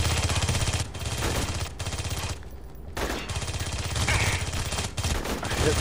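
Rapid gunfire bursts from a shooter video game, loud and continuous with brief gaps, machine-gun-like volleys filling the scene.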